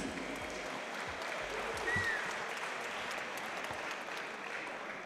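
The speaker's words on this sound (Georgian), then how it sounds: "აპლოდისმენტები ამ ორგანიზაციის დამფუძნებელ დავით კირიას." Audience applause at the MAX FIGHT 10 fight event rolls on as a steady, moderately loud wash of clapping from a crowd, without a break and with no speech over it.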